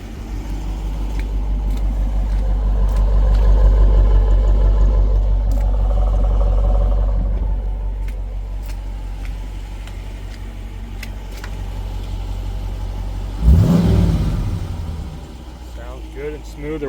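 A 2022 Dodge Durango R/T with a freshly swapped engine rumbles steadily, its low drone swelling and easing, then a sharp burst near the end, as a voice talks over it.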